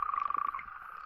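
A male toad croaks close by in a single rapid pulsing trill that starts loud, then falls to a softer steady buzz, with no voices over it.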